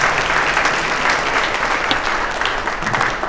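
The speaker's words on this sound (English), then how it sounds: "give them a round of applause." Dense, steady round of applause from an audience at the 2023 ARCS Foundation Atlanta scholar awards celebration, loud and continuous throughout without pause.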